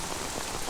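Heavy rain pours down steadily in a movie scene, a dense, continuous hiss of drops striking surfaces with no pauses.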